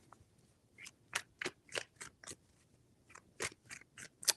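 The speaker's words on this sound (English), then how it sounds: "3 shuffles." Tarot cards shuffled by hand in a series of quick crisp riffles and slaps, several bursts close up with short pauses between them, no talking.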